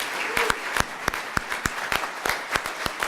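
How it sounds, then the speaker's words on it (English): Applause for the nominees and honorees at a youth service appreciation event, a crowd clapping steadily with sharp individual claps standing out over about three seconds. "let's have a round of applause for all of the nominees,"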